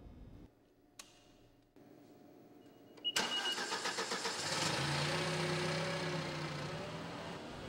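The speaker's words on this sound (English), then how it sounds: "When we start the engine again, notice all of the debris kicking out of the bottom of the truck." Crown C-5 series truck engine starting after a few quiet clicks, cranking with a rhythmic pulse and then catching into a steady, loud idle.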